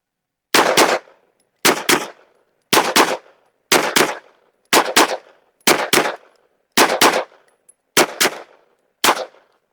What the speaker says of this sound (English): Just shoot 2 shots into the A zone of each target.